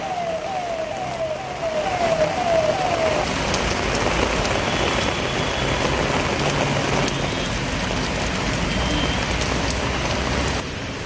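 Heavy downpour over Bengaluru city, a dense, steady hiss of rain pouring down throughout, with a brief warbling siren-like tone near the start before the rain dominates alone.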